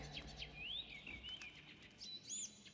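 Blue canaries in the video game Assassin's Creed Chronicles: China sing a quick run of sweeping chirps and warbles, fairly clear above a soft background hum, with no talking.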